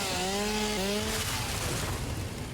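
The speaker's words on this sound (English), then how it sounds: "We can use this chainsaw to cut down trees." A chainsaw cutting down trees in the video game Satisfactory, a loud close revving whine with a tonal engine note that shifts pitch, then fades into a rougher crunching roar as the cut goes through.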